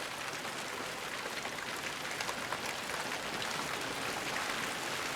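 Steady rain falls outside a shed, a soft continuous hiss of drops at a fairly constant low level, with no voices.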